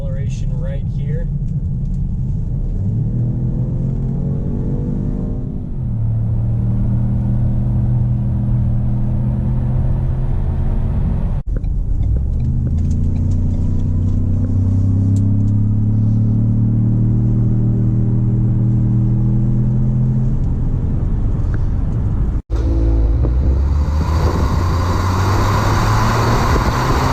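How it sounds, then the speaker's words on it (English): A 2018 Ford Edge EcoBoost SUV, heard from inside, accelerates up an interstate on-ramp. The engine drones steadily and rises through several gear changes under continuous road rumble, with someone talking over it throughout. "we'll get a little bit of an acceleration right here"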